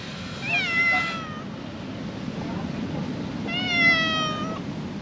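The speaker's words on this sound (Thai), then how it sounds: "อุ๊ยแมวน่ารักมากเลยเมี้ยวเมี้ยว" A cat near a beach café in Unawatuna, Sri Lanka, gives two drawn-out, rising meows a few seconds apart, fairly close, over low background murmur and a voice talking.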